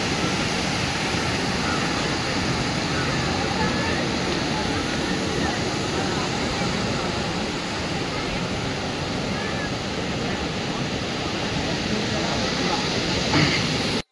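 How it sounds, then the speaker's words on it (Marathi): Devtas waterfall after recent rain, a steady, dense roar of falling water heard throughout at moderate loudness with no breaks. "हा आहे देवतास आपला धबधबा बघा"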